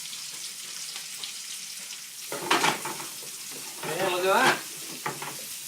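Chorizo, peppers and garlic sizzle and fry in a paella pan, a steady crackling hiss with louder bursts of stirring, while a voice speaks briefly over the cooking.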